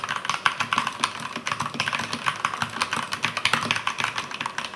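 Fast, steady typing on a Keychron K2 mechanical keyboard fitted with Gateron Red linear switches, close and clear, with dense light clacks and no talking.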